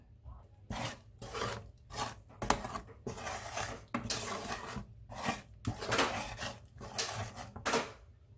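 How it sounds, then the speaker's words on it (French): Fish and blended coconut being stirred in a pan, giving rhythmic rasping scrapes in bursts, fairly faint and close, with no voices. "Et on va mélanger tout ça"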